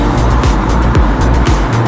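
A Lamborghini Terzo Millennio roars loudly close by, its engine note rising and falling with repeated short sweeps and a tire squeal as it drives past.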